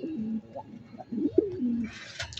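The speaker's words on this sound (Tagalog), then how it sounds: "Ating kalapati." A racing pigeon coos close by in low, soft, throaty phrases that rise and fall, repeated a few times, followed by a brief rustle near the end.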